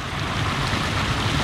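Water in a park gives a brief, steady rush that sounds like waves or lapping, blurred by wind noise on the microphone, with no voices.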